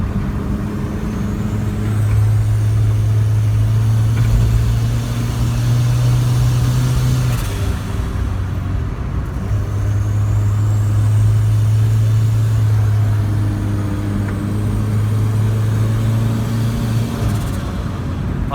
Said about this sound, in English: Lots of compressor surge.